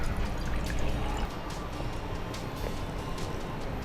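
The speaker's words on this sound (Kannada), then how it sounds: "ನೀರು ಹಾಕಿ ಮೇಡಮ್. ನೀರು ಹಾಕಿ." Water poured from a vessel into a pressure cooker in a home kitchen, a steady splashing fill that runs throughout with small drips and trickles, close and moderately loud.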